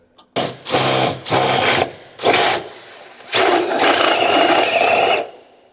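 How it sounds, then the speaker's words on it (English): A blind rivet gun setting rivets in the mounting brackets of a Sequoia side step for a Mercedes Sprinter, heard as several loud, close bursts of rapid mechanical clattering separated by short pauses. "You can take your blind rivet gun and make sure you have the rivet in place."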